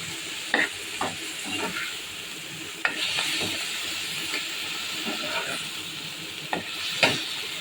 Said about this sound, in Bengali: পাশে ফ্রাই প্যান বসিয়ে দিয়েছি, শাক ভাজি করবো।